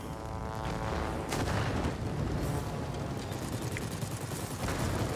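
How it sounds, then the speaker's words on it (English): A single bomb dropped from a Skua aircraft in World of Warplanes explodes on ground targets, a loud rumbling blast with sharp cracks over continuous engine drone, no talking. "taking care of the tough stuff with a single bomb"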